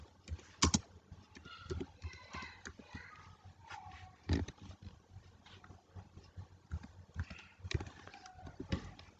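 Quiet, irregular keystrokes tap on a computer keyboard while typing code, a few sharper clicks standing out against a faint background.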